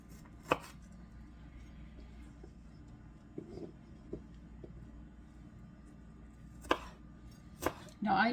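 Knife chopping on a board while preparing Afghan ground lamb and eggplant pasta: a few sparse, sharp chops scattered over a quiet kitchen hum, with a louder clatter at the end.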